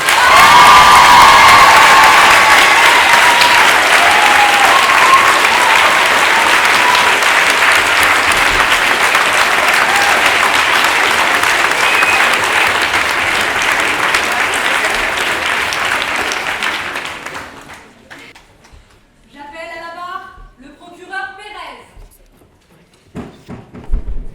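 Loud, sustained applause from a large audience at a French eloquence contest, with some cheering, lasting most of the clip before fading out, followed by a few faint voices.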